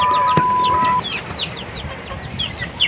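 Two-month-old chickens clucking and cheeping nearby, many overlapping short calls in a busy flock, with a brief steady tone at the start.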